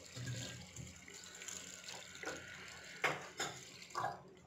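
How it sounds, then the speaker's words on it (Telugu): Water is poured into a pot of gongura dal in short uneven splashes and gushes, faint and close, with several louder bursts toward the end. "నీళ్ళు పోసుకున్నాం కదండి సరిపోతాయి"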